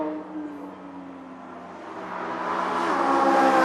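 Ford Mustang GT350 and Porsche race cars running together on a track, engine noise rising and swelling louder as they approach, with no talking.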